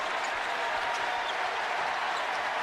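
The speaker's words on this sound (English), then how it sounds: "the remaining crowd inside the Smith Center on their feet in appreciation of their 12th ranked Tar Heels" A large basketball crowd at the Smith Center claps and cheers for the 12th-ranked Tar Heels, a steady, loud wash of applause filling the arena.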